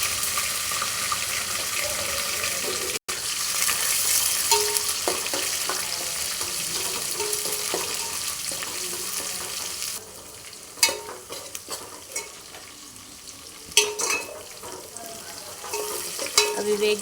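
Green chillies frying in a pan for a home-cooked Telangana pappu charu, giving a dense, steady sizzle for about ten seconds. The sizzle then fades and gives way to intermittent scraping and clattering of utensils, all close by.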